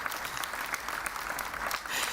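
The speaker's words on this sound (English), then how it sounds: "Definitely worth some applause." Continuous, crisp applause from an audience fills a press conference at the IAA 2021 motor show for CARIAD, evenly textured and moderately loud throughout.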